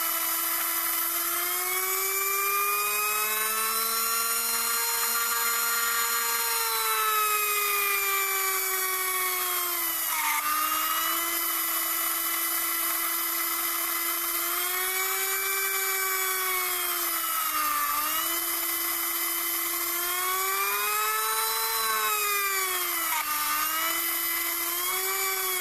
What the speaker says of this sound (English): it's at a certain level of voltage that the motor tends to make a rather screechy kind of noise